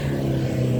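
Steady, loud engine drone of a car going by on a busy street under construction along an esplanade, a low continuous hum with a faint rise toward the end and no talk.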